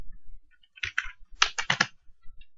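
Keystrokes on a computer keyboard while HTML code is typed into Notepad, arriving as two close bursts of rapid clicking with brief pauses between them.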